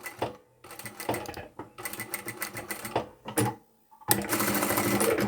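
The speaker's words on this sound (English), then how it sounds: "I'll come up to within 1/4 inch of that line and backstitch and all the way up" A sewing machine stitches and backstitches a lipstick or chapstick holder in bursts of rapid mechanical whirring, stopping and restarting several times with short pauses between runs.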